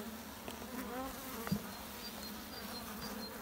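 Honey bees hum steadily around a divided hive frame of capped brood, a dense continuous buzz with individual bees droning close by, and one brief louder knock partway through.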